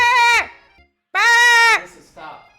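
A person imitates a baby goat, giving two loud, wavering bleats separated by a short pause and followed by a softer vocal trailing off.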